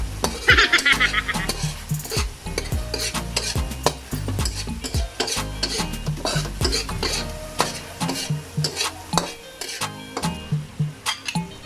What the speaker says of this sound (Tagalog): Haluin lang yung haluin para mauga.